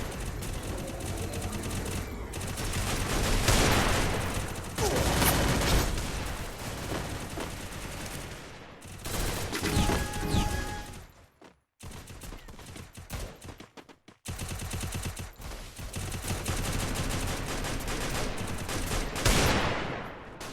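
Desert Eagle pistol fired in a video game with pauses between shots, dense loud gunfire bursts continuing across the stretch with a couple of short breaks.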